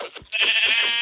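Sheep bleat in a single sustained, loud cry lasting most of the second, close to the listener, preceded by brief soft noise.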